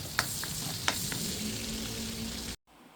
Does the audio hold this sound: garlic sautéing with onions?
yes